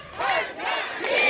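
An outdoor festival audience shouts a person's name together in loud, repeated group calls, three swelling bursts of voices rising and falling in quick succession.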